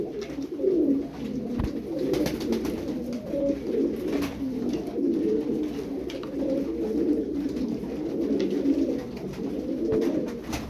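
Eleven pigeons coo steadily in a low, throaty murmur, several birds overlapping continuously at moderate volume, with occasional faint clicks and rustles.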